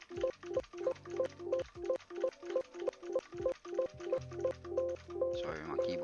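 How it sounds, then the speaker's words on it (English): A loud computer keyboard clacks in a steady rhythm of sharp, close keystrokes, about two per second, with a brief burst of faster typing near the end. "Sorry, my keyboard is a bit loud."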